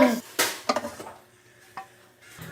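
Hotdog sizzling and being stirred in a cartoon frying pan: a few short scraping, clattering stirs with sizzle bursts, then quieter cooking noise, no voices.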